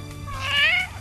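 A person imitates a cat's meow, one drawn-out rising and falling mewing cry, close and fairly loud, with no other sounds around it.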